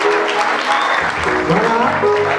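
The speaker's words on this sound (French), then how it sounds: "On applaudit très fort pour le président." An audience claps for the president at a French-speaking literary event, loud sustained applause filling the room, with voices faintly audible beneath it.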